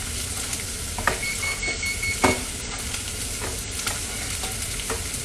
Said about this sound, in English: The onions are going to continue sauteing.